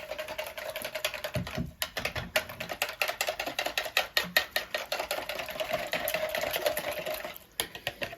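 A whisk beats chicken nihari briskly in a pot to keep lumps from forming, a close, steady run of rapid rattling clicks with a few short pauses and no talk.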